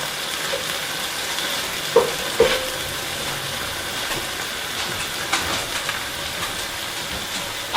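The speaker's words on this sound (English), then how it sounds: "Gotta give this a stir here." Cheeseburger casserole mixture sizzles in a skillet while a utensil stirs it, a continuous frying hiss broken by a few sharp scraping clinks and soft shuffling movements.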